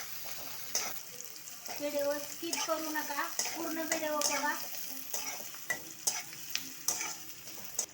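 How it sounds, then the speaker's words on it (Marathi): Chopped onion frying in a pan for zunka, crackling sizzle with stirring scrapes, close by, while someone talks over it. "बघा आता कांदा टाकते, कांदा ब्राऊन होईपर्यंत"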